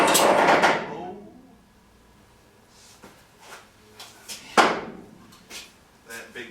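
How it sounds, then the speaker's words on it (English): Loud creaking and groaning as truck lift shackles pass a cut in the bed rail, a long harsh burst at first, then quieter intermittent creaks and clunks with one sharp knock partway through. "That big creaking noise is the shackles going past the piece cut on the bed rail under there."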